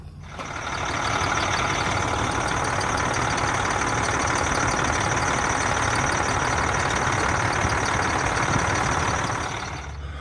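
A large diesel-type engine runs loudly and steadily after a belt tensioner repair, a dense continuous roar with mechanical clatter holding for about ten seconds, with no talking.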